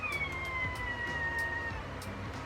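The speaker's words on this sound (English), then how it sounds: "That was a long meow." A cat lets out one long, drawn-out meow that holds a steady, slightly falling pitch for several seconds over a low background rumble.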